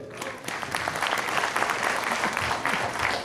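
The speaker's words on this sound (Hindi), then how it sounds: "तो दोस्तों तालियां हो जाए।" A crowd at a health camp talk in Jaipur claps steadily, a lively mid-distance burst of applause that holds for a few seconds with faint voices mixed in.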